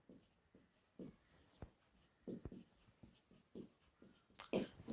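Marker or chalk strokes on a board during an organic chemistry lecture, a run of short scratchy squeaks and taps in irregular bursts, fairly faint, with a teacher's voice in the room.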